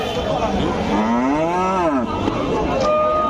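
A single long, loud cow moo rises and falls, close by at a dairy cow sale, over a steady background hum.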